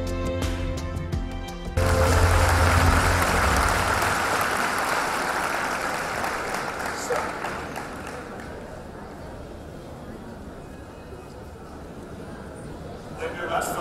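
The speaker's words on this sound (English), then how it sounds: "please welcome an intellectual and an innovator, Mr. Fredrik Hacklin, with a huge round of applause." Conference audience at a management conclave breaks into loud applause that swells early and then fades to a softer, sustained clatter of clapping for the rest.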